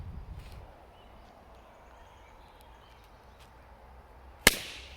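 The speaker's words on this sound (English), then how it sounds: "that balloon has definitely come to an explosion" A giant birthday balloon on grass outdoors bursts with a single sharp, loud pop near the end, after several seconds of quiet outdoor ambience.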